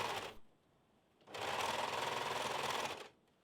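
An overlocker sewing machine finishes a dress seam in two runs: a short whir at the start, then a steady, close, loud stitching burst of about two seconds after a brief pause.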